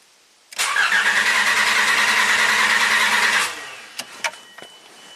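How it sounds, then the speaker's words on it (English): Car engine cranking on a jump starter, a loud, even whirring crank of about three seconds that stops abruptly, followed by a few faint clicks. "Let's crank it for 5 seconds"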